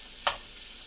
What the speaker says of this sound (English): I'm going to add my sausages here. Give them a little stir.